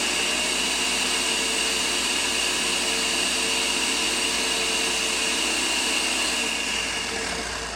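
A blender runs continuously on frozen bananas for nice cream, a loud, steady whirring drone close by that eases slightly near the end, with no talking over it.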